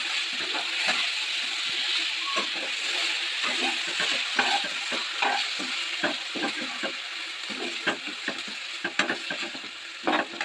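Marinated chicken sizzles and crackles loudly in a kadai on a gas stove, a continuous dense frying hiss broken by frequent sharp pops and stirring scrapes, with no talk.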